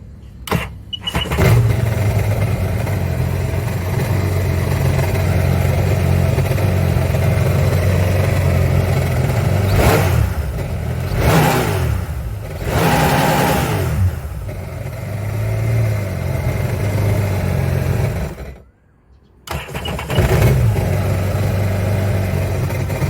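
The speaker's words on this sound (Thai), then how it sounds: "เรามาฟังเสียงของเครื่องยนต์กันครับ" A Sea-Doo GTX Wake 155 jet ski engine idles steadily, then revs up in several surges before settling back to a low idle, with a brief near-silent gap toward the end.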